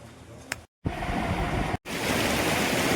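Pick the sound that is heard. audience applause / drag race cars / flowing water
flowing water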